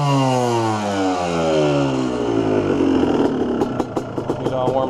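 An ATV engine that has just been pressure washed runs close by as it warms up, its pitch dipping and settling into a throbbing idle with a rough, pulsing rattle toward the end.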